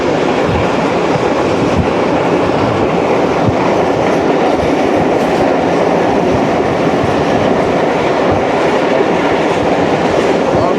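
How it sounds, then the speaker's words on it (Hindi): The Pak Business Express between Rohri and Karachi rolls along its rails with a loud, continuous rumble and steady clatter heard from inside the carriage, with no talking. "ट्रेन हमारी बिरिया रोड रेलवे स्टेशन को पास कर रही है।"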